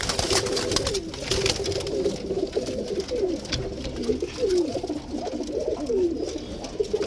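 A silver male pigeon coos in repeated low, rolling phrases, fairly close, over a constant background rustle.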